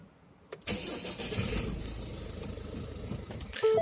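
A 2013 car with a keyless smart key cranks and catches on its push-start button, then settles into a steady, fairly loud idle. A couple of short electronic beeps sound near the end.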